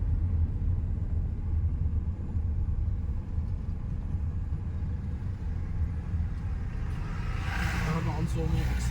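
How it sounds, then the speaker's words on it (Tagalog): A car engine runs steadily inside the moving vehicle, giving a continuous low rumble throughout, with a brighter rushing swell near the end. "Tsaka umaandar yung makina."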